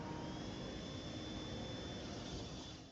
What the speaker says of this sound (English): That isn't the mouse revving its engines, it's spinning up a propeller.